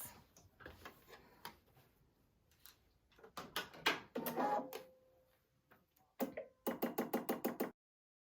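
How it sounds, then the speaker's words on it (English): Sewing machine stitching a pocket onto the lining piece of an envelope clutch: scattered knocks and handling clicks, then a short, fast, evenly spaced run of stitching pulses close up before it stops. "I'm going to go ahead and stitch this pocket to the lining piece"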